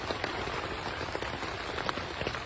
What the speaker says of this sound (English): As you can hear, it's still raining.